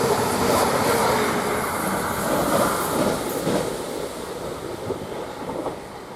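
A Greater Anglia train from Stansted Airport to Norwich passing through Waterbeach station, a steady, fairly loud rumble with faint rhythmic clatter that slowly eases toward the end.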